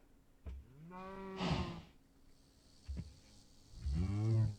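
Cow mooing in a video game, several close, drawn-out moos with a low rumble, between short clicks and bumps.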